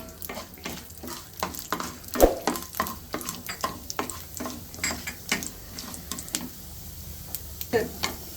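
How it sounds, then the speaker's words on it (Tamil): Mustard seeds, urad dal, chana dal, dried chilli and cumin tempering in hot oil, with scattered sharp crackles and pops over a soft sizzle and occasional stirring, close and fairly quiet. "கடுகு உளுத்தம் பருப்பு கடலைப்பருப்பு காஞ்ச மிளகா சீரகம் இதை தாளிச்சிடுறோம்"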